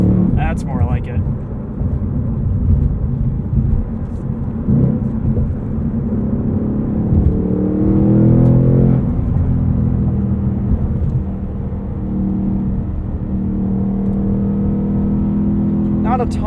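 A 2022 Ford Mustang Mach 1 with a manual gearbox and the handling package, its V8 engine droning loud and steady from the cabin as it winds up toward a 7,400 RPM redline, with a voice talking over it.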